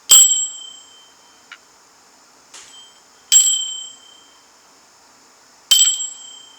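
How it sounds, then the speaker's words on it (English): A bell, rung as a ritual to clear energies, strikes three clear ringing tones that each decay slowly, with a faint small tap between the first two strikes. "Let's ring the bell to clear any energies. We will ring it 3 times."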